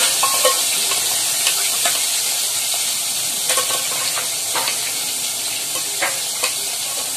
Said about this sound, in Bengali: বাকি যে মাছের কাঁটাগুলো আছে সেগুলো সব পুরো ভেজে নেবে